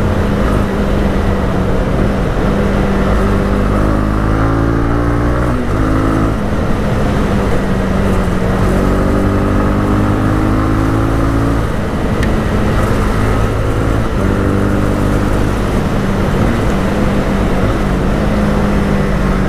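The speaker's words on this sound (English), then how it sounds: "This 300cc single engine sounds really nice." A loud 300cc single-cylinder Honda CB300R motorcycle engine drones steadily with a deep tone, rising and falling in pitch as it shifts and accelerates throughout.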